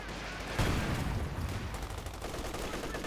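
Gunfire in the Company of Heroes 2 real-time strategy game, with an MG-34 machine gun firing away amid a dense, continuous rumble of shots and battle noise that swells sharply early on and stays steady.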